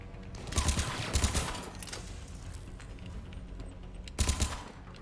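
Gunfire in Mass Effect 3 aimed at a window that won't break: loud rapid bursts of automatic shots, a cluster early, a steady noisy stretch, then another burst near the end.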